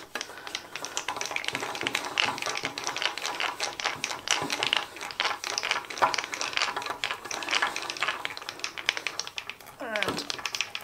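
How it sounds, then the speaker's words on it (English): Screws are driven into dry-assembled wood, giving a steady run of close, fine creaking and ticking with small taps, while a person talks quietly over it. "This has been dry assembled. So the screws go in reasonably easily."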